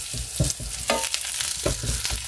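Cheese-filled tortillas frying and browning in a pan on the stove: a steady close sizzle with occasional stirring or scraping noises, and no talking.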